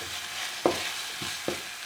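Sauce Nantua ingredients simmering gently in a pan with cognac and white wine, a soft continuous sizzle broken by a few light utensil taps, quiet and close with no voices.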